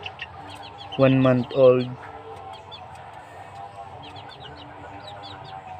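Young cockerels in a small backyard breeding flock in Bohol cluck and chirp in short, repeated calls, with one louder two-part crow-like burst early on, while a person speaks briefly.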